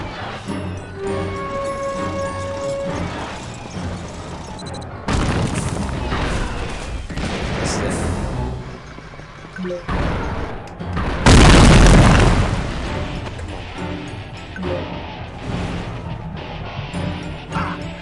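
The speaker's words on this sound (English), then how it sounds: "Those confusion grenades, man." Confusion grenades going off in the video game Psychonauts, loud booming blasts and crashes over busy game music and effects, with a heavy burst around the middle and repeated impacts throughout.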